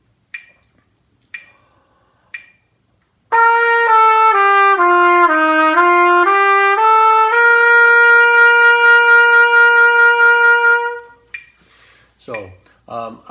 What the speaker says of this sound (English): So now I'm going to go slurring on the trumpet.